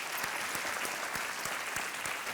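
Studio audience on a televised quiz game show breaks into sustained applause, a dense wash of clapping with a few sharper claps standing out, steady and fairly loud throughout.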